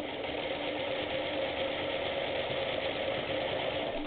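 A Singer sewing machine running and stitching, a steady, even mechanical whir with a faint rhythmic rattle, continuous and close throughout.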